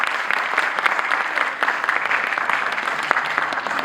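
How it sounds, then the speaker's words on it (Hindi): A crowd claps at a ghazal album launch event, continuous even applause from many hands, moderately loud and sustained with no pauses, and no voices above it. "जोरदार तालियां फॉर आरडीजे"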